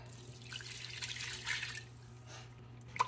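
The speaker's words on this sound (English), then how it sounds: "Add the crab stock." Crab stock pours into a pan for blue crab soup, a faint watery trickle over a low steady hum, ending with a small drip or clink.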